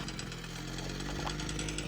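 A lawn mower drones steadily in the background outside a holiday house in the Carpathian mountains, a continuous muffled engine hum with no pauses.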